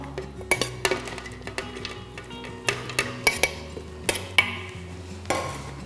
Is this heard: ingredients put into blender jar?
yes